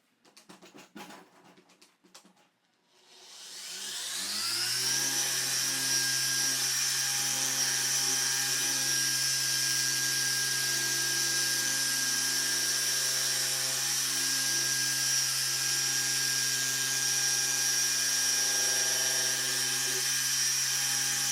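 Machine polisher spreading Jescar Power Lock polymer sealant onto car paint starts after a few soft handling clicks, then spins up into a loud, steady high whine that holds unbroken to the end.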